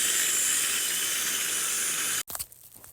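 A steam locomotive on a railway releases a loud, steady hiss of steam that runs for about two seconds, then cuts off abruptly into quieter, uneven rushing noise.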